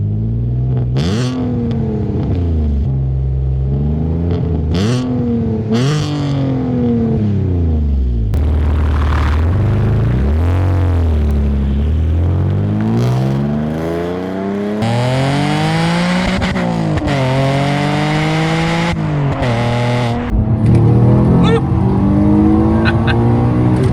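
An Alfa Romeo 147 GTA with a 272 bhp Busso V6 accelerates hard, its loud engine note climbing and dropping through repeated rev rises and gear changes, with occasional voices in the background.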